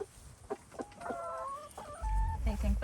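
Farm chickens cluck and squawk nearby in short bursts on a warm August day in Kentucky, with low rumbling handling noise beneath and faint talk.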